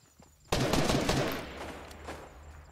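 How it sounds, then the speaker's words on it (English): Video game gunfire during a competitive battle-royale match, a burst of rapid automatic shots erupting loudly and continuing in dense volleys before tapering into scattered fire. "There's a different team shooting them"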